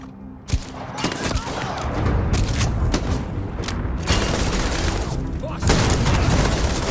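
Gunfire fills a firefight in Starfield, with sharp shots and rapid bursts sounding close and loud over a steady din of combat. Voices are heard now and then.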